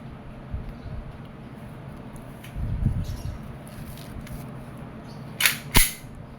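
A WE airsoft Glock 34 Gen 4 pistol fires into a chronograph, a sharp crack near the end followed quickly by a second, over faint background noise with a few small clicks before.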